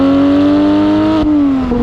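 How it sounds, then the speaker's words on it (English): A 2018 Porsche 911 GT3 with a Soul Performance exhaust revs hard at close range, a loud, tonal flat-six wail that holds high, drops sharply, and then cuts off. "This one's fitted with a Soul performance exhaust."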